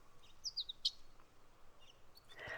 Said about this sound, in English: A symphony of chirps serenade you